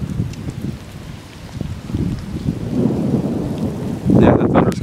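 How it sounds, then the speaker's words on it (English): Thunder rumbles during a tornadic storm in Cambridge City, Indiana, rolling low and continuous with rain in the background, swelling into a louder crash near the end. "Yeah, the thunder's coming from the southwest."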